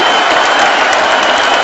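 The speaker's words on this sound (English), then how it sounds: "This crowd is on its feet." A UFC arena crowd applauds and cheers after a fight between Conor McGregor and Nate Diaz in 2016, a dense, loud, steady roar of clapping and voices with no pauses.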